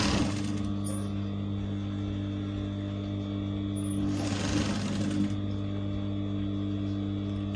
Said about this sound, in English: I'm just clipping because I want to do a top stitch over here. I'm going to do a top stitch.